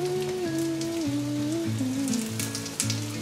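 Slices of king oyster mushroom pan-fry in melted vegan butter, making a soft, even crackling sizzle like light rain, set under gentle background music.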